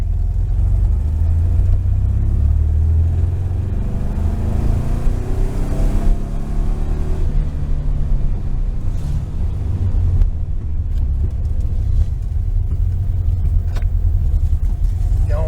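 Air-cooled engine of a 1973 VW Super Beetle fitted with a Dellorto FRD 34 carburetor, droning loud and steady in second gear as it pulls up toward high revs, rising pitch sweeps layered over continuous road rumble.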